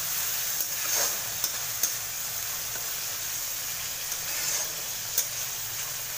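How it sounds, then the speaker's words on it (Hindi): Frozen peas stir-fry with mixed vegetables in a pan for veg fried rice, giving a steady, even sizzle with occasional soft clinks and scrapes of stirring. "एक मिनट इसे भी ऐसे फ्राई कर लेंगे"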